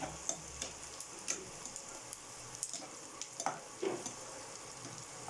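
Onions browning in a pan for upma give a soft, steady sizzle with scattered ticks and light stirring clicks, fairly close and alone without talk.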